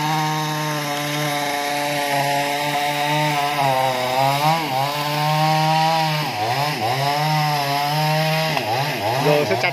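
A chainsaw cuts into a century-old tamarind tree with rotten wood, its engine whining loudly and steadily, then dipping and revving as the blade bites, all without speech.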